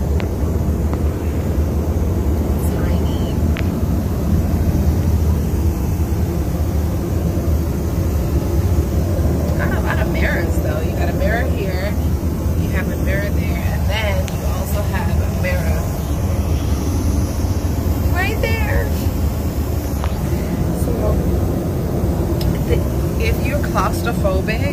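Steady, loud airliner cabin roar heard from inside a tiny onboard plane lavatory, a constant low rumble throughout with faint clicks and rattles on top.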